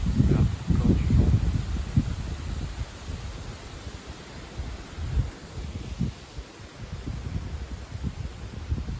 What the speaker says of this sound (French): Là, encore du vent.